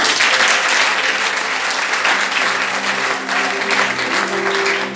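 A congregation applauds at a New Year's Eve church vigil: dense, sustained clapping from many hands fills the room evenly for several seconds.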